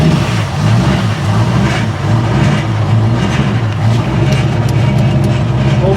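The engine of a C4 car runs shortly after a cold start, a loud, steady rumbling idle with a rough, uneven undertone and no speech over it.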